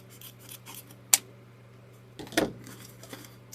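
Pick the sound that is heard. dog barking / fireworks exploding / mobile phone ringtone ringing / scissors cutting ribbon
scissors cutting ribbon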